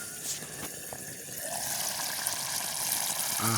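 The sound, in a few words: curry boiling in pot after lid opened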